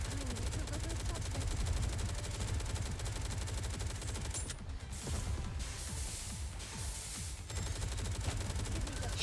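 Sustained rapid gunfire from shooting at covers in the Nikke game, a dense continuous barrage of bursts across the whole stretch with brief dips, mixed with game effects and music.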